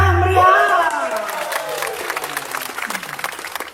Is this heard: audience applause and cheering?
yes